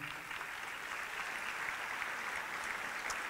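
Faint, distant applause from an audience at a university diploma ceremony, an even wash of clapping that holds steady from start to finish.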